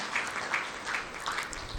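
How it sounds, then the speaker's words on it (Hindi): An audience at a Brahma Kumaris teachers' gathering claps in welcome for a guest, a steady dense patter of many hands filling the space at moderate loudness throughout. "ताली बजाकर हम हार्दिक स्वागत करते हैं"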